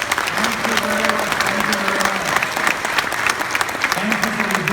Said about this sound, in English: Now, give a round of applause to Dr. Mansur Hasib.